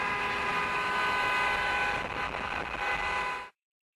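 A car horn blares continuously from inside the moving car, a steady, unwavering tone over road and engine rumble that cuts off abruptly.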